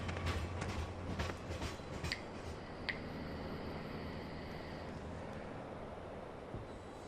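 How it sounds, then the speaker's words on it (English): A freight train in Farming Simulator 15 rolls away after being loaded with logs, a low rumbling clatter with a few metallic knocks early on, easing into a steady, fading hum. "There goes the train."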